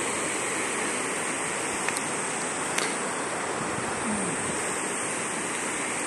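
Surf rolls onto the sand at Palolem beach in Goa, India, a steady, broadband wash of small breaking waves close by, with no voices over it.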